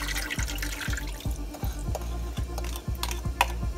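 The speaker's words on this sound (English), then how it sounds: "pour in the braising liquid that we had prepared earlier" Braising liquid being poured into a pot of Korean braised short ribs (kalbi jjim), a steady liquid pour with stirring and clinking against the pot, near and fairly loud, with no talking.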